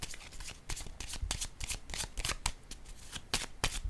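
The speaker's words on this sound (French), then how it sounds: "Je vais déposer une carte ici." Tarot cards handled and laid down on a table, a rapid series of crisp, close papery flicks and slaps in an uneven rhythm with no talking.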